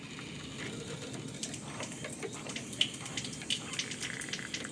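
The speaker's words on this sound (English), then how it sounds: "as you can hear, there is some water that are coming through there" Water running through a newly installed R23 shower valve cartridge after the supply stops are opened, a steady faint rushing hiss with scattered small splashy ticks, heard alone and close.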